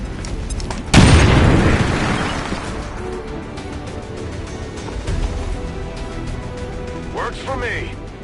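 A grenade goes off in XCOM 2 with a single loud, close blast that fades into a long rumbling decay, followed by quieter game sounds and a brief voice.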